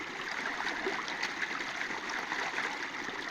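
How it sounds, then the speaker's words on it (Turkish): A small stream trickles and burbles over quartz stones, a steady close rush of flowing water with no pauses and no voices. "Gördüğünüz gibi küçücük bir dere."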